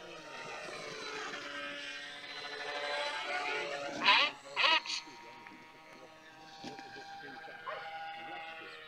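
A GeoBat model aircraft flies with a propeller that may be clipped, giving a steady whirring, vibrating drone with a few sharp louder bursts midway. Wind noise and voices sit under it.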